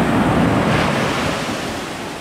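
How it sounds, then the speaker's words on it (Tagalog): Strong ocean waves crash and roll onto a beach at La Paz, San Narciso, Zambales, loud and near, mixed with gusty wind buffeting the microphone and no voices. "Napakalakas ng alon. Grabing alon dito."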